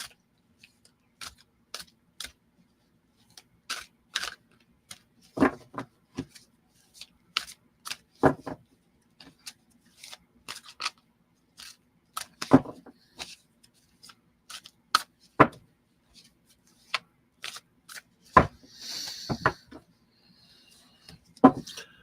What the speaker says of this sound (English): let me do a cleansing shuffle for you there, Richard.